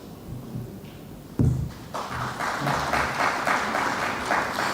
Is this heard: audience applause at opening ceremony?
yes